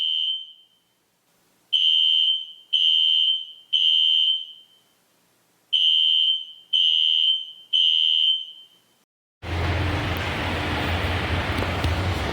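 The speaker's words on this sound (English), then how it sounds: "Just had a fire alarm." A fire alarm in a Melbourne building sounds in repeated loud electronic beeps, pausing briefly between groups, then gives way to a steady broadband roar of background noise.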